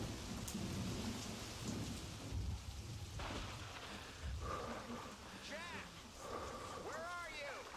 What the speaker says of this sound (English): So we're out in the rain here, and we're getting the nice pitter-patter, but listen to this.